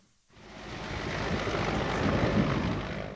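An Mi-8 transport helicopter flying, its rotor and engine roar rising from silence into a loud, sustained, broad drone that holds steady, close by, with no voices.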